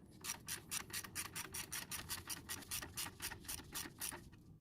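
A wrench ratchets repeatedly while loosening the belt tensioner bolt on an Infiniti G35 VQ35 engine, a quick, steady series of close, faint rasping clicks.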